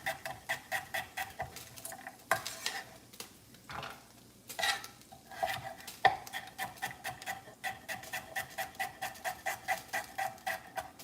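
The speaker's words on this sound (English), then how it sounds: "I'm just gonna start chopping up my carrots and throwing them in." Carrots being chopped on a cutting board in a home kitchen while a meat sauce cooks, a quick run of sharp knife taps in an uneven rhythm, broken by louder clatters as pieces drop into the pot.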